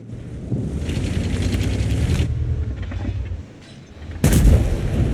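Tank guns firing in a World of Tanks battle on the Himmelsdorf map, including an E100 heavy tank: loud booming artillery-like blasts with rumbling mechanical background, the sharpest shot hitting near the end.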